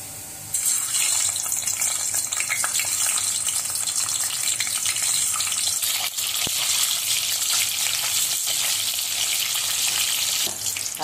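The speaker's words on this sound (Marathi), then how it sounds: "आता आपण अंडे फ्राय करून घेऊ।" Eggs fry in a pan, a loud, steady sizzle that starts abruptly and continues without pause, with no one talking.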